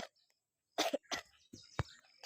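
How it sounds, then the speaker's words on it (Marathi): A person coughs in several harsh, close bursts with short pauses between them, loud and alone without talk. "खोकला तर लयच येतो"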